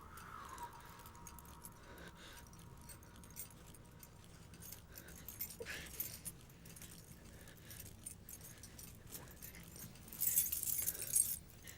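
A bunch of keys for unlocking a room jingles and clinks faintly in a quiet indoor scene, with sparse light rattles that swell into a louder, brighter jangle near the end.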